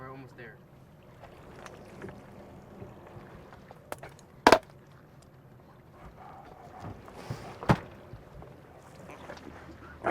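A stone crab fishing boat runs through choppy water under a low, steady engine drone, with occasional sharp slaps of hull against waves and faint voices in the background.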